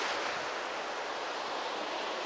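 A big ocean wave crashes onto a warm, clear-water beach at Sea Isle City's 59th Street, a steady, loud broadband roar of surf and rushing water filling the whole stretch with no voices.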